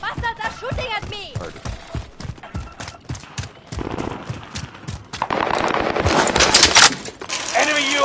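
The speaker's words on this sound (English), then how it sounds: "The bastards are shooting at me!" Machine gun fire in a video game, rapid bursts of shots in a rhythmic string that give way to louder, denser gunfire with other game noise, and voices speak over the gunfire.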